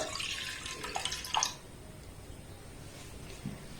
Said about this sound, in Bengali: এই দেড় কাপ আমি লিকুইড দুধ দিয়ে দিলাম